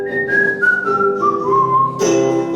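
A man whistles a slow descending melody, clear and close, each note held before stepping down, at a live concert.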